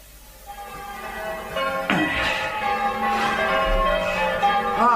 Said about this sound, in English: But we shall continue to ring the bells, my dear, for another few minutes or so